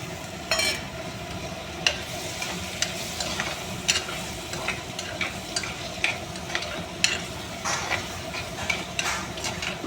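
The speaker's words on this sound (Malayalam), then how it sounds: "ഉള്ളിയും തക്കാളിയും വഴണ്ടു കഴിച്ച് ഇനി നമുക്ക് അതിലേക്ക് നമ്മുടെ കൊഞ്ച് ചേർത്ത് കൊടുക്കാം." Prawns being stirred into sautéed onion and tomato in a pan make a close, steady sizzle with repeated scraping and clinking spatula strokes at an irregular rhythm.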